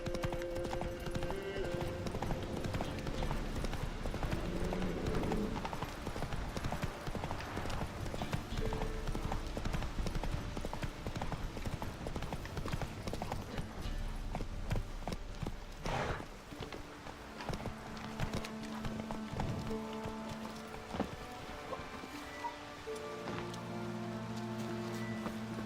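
A horse galloping in the video game The Witcher 3, fast rhythmic clip-clop of hooves running steadily throughout, close and loud over outdoor ambience and game music, with a brief voice now and then.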